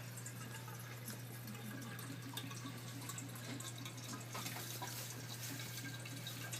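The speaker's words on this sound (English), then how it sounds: "first step to making coffee, you gotta put water in a coffee maker" Water runs steadily from a tap into a coffee maker, a continuous splashing rush with faint dripping and a constant low hum beneath, no voices.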